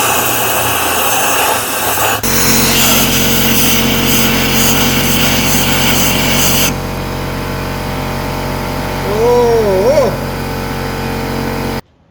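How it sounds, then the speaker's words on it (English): A compressed-air blow gun blasts excess brake cleaner off engine parts during carbon cleaning. A loud, broad hiss lasts about four seconds, then a steadier, quieter rush follows with a brief rising whistle before it cuts off. "take one of my shop rags and my air compressor tool and blow out the excess brake cleaner"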